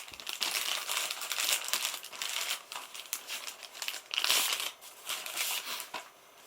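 Blu-ray packaging is cut open with a knife, giving close, irregular bursts of crinkling and rustling plastic with short pauses between them.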